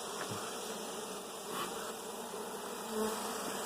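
Honeybees buzz at an open beehive during a spring hive inspection, a dense continuous hum close by with no talk.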